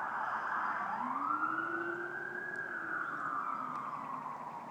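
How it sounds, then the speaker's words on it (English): A wailing emergency siren rises and falls in long sweeping tones, loud and steady over traffic rumble, with no talking. "We got some different sounding sirens."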